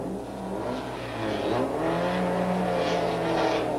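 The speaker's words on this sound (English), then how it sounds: "He engages reverse gear to actually back off the line to a safer spot." A 1986 Porsche 944 race car revving as it reverses off the line after a spin and pulls away, the engine note rising and wavering up close.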